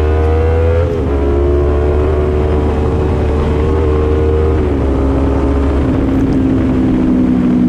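Fast motorcycle ride heard from inside an AGV Corsa R helmet, a loud, steady engine drone with rushing wind that shifts pitch slightly as the bike changes speed, no speech.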